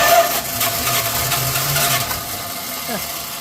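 A 1979 Dodge with a swapped-in 360 engine cranks and then catches into a rough running note, loud and close throughout, with a brief rising tone near the end.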